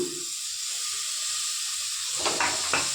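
Chopped tomatoes hit hot oil in a pan of paya curry, giving a close, continuous sizzling hiss with a few brief stirring clatters near the end.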